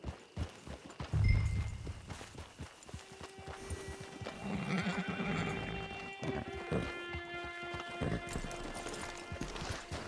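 A horse in the Western game Red Dead Online walks with soft, irregular hoof clops and gives a brief whinny near the start, mixed with faint game ambience and no speech.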